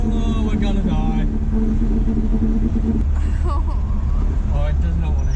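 A worn junkyard Datsun engine drones loudly in 4th gear as it strains to pick up speed, a steady low rumble filling the cabin while people talk over it.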